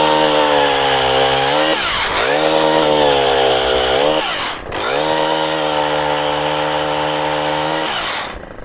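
A gas chainsaw runs loud and close, its engine droning with two brief dips where the throttle drops before revving back up.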